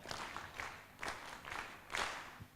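Audience at a regional pandemic-preparedness experts conference clapping in several swelling waves, fairly faint and roomy, with no voices over it.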